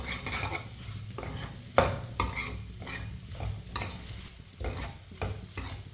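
A spoon stirs dry fruits cooking in a pan for sweet vermicelli, with rhythmic scraping and clinking strokes over a low sizzle and a few sharper knocks against the pan.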